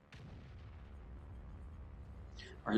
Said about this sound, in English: Our SPG got a really nice shot, tracked him.